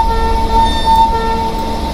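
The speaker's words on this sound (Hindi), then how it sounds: "अभी हॉर्न मार के हम लोग यहाँ से थ्रॉटल देकर आगे बढ़ते हैं" A locomotive horn sounds in the Railworks train simulator game on the Jan Shatabdi Express. It is a steady, sustained multi-tone blast that holds for the whole stretch over a low engine rumble.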